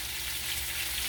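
Chopped onions frying in oil in a hot pan, giving a steady, dense sizzle that holds even and close for the whole stretch, with no voices over it.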